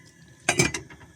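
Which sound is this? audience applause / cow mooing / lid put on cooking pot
lid put on cooking pot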